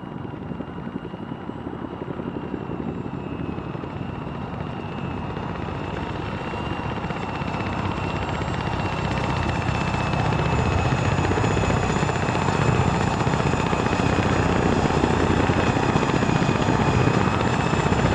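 Chinook twin-rotor helicopter in a video game, a steady, loud rotor drone and turbine whine that holds continuously throughout and swells slightly louder toward the end, with no talking.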